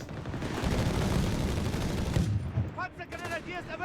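An MG 34 machine gun rattles in Company of Heroes 3, a desert clash of Afrika Korps against US forces, firing long, dense bursts amid loud battle noise. The firing thins out near the end as a voice talks over it.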